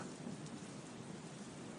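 Sudden cold nighttime rain shower as a story sound effect: a steady, loud downpour hisses without a break, with a low thunder-like rumble beneath it and no voices.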